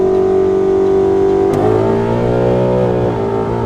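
A Camaro with a Whipple supercharger roars loudly and steadily, then the pitch drops and shifts as the revs change, with a harsh, rising drone of hard acceleration and wheel spin.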